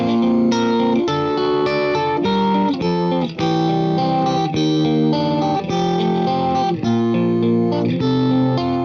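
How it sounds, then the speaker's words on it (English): Gritty, fuzzy overdriven guitar chords play continuously and loudly through a compressor pedal, with a grainy distorted texture and no talking. "That can create a really sort of grainy, messed up overdrive distortion thing."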